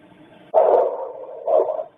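A single dog bark rings out outdoors, then a second bark follows about a second later, each trailing into a muffled, hollow echo in otherwise quiet surroundings.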